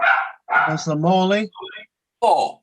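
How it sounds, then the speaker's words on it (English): A dog barks once, sharp and close, near the end of a council committee roll-call vote, right after a voice speaks. "Sorry, that's my dog voting."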